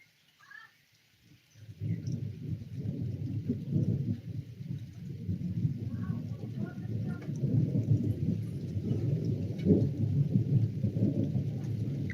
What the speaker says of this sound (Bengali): আমাদের এদিকে প্রচণ্ড বৃষ্টি নেমেছে